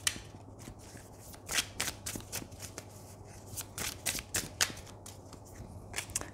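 A deck of tarot cards being shuffled by hand close up, with repeated riffling bursts and soft card slaps in an irregular rhythm over a faint steady hum, with no talking.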